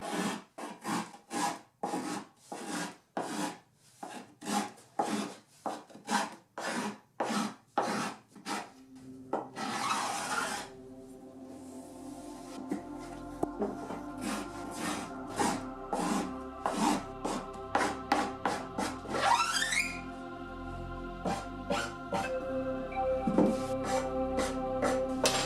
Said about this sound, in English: I went with the file method.